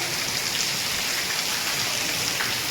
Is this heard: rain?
yes